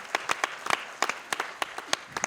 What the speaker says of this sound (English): Big round of applause for John.